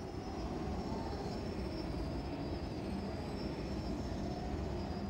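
Starfighter thrusters roar in a speed boost in Star Wars Rebel Strike, a steady, loud jet-engine rush that holds without a break from start to finish.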